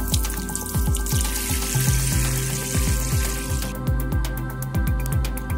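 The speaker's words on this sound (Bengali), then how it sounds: "প্রথমবার খুব ভালোভাবে জল দিতে হবে, পুরো টব জল দিয়ে ভর্তি করে দেব" Water poured into a plant pot while repotting a yellow trumpet (Tecoma) plant, a continuous splashing gush with bubbling and trickling, close and fairly loud, with a steady faint hum underneath.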